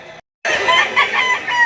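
A rooster crows loudly and close at a chicken and livestock auction market in Lipa, Batangas, its drawn-out call following a brief gap of silence, with clucking fowl around it.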